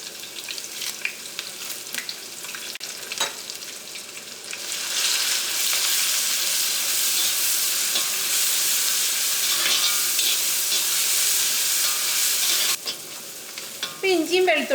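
Crushed ginger, garlic and shallots frying in hot coconut oil with curry leaves; quieter crackling at first, then a loud, steady sizzle that swells and holds before easing off near the end.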